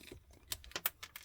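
Wire stripper pliers cutting solid 14 gauge wire, a few quiet, sharp clicks and snips spaced irregularly over about a second, close up and faint.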